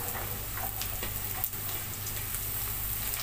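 Broad beans sautéing in a pan, a soft continuous sizzle and crackle with faint scraping stirs, fairly quiet and without speech.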